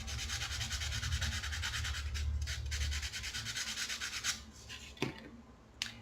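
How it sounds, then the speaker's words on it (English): The cut end of wrapped jewelry wire on an earring is sanded with steady, quick rubbing strokes, a close, soft scratchy rasp that continues for several seconds and then trails into a few separate scrapes, with no talking. "You can sand to your liking."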